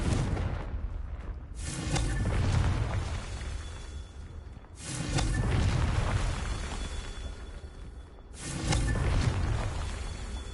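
Confringo explosive spell blasts in Hogwarts Legacy, three heavy booming bursts several seconds apart, each swelling into a broad rumbling roar that lingers before the next impact.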